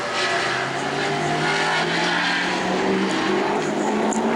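Sportsman race car number 52 roaring around the New Smyrna Speedway track during qualifying, a loud continuous engine drone holding a steady pitch as it passes close by, with no talk over it.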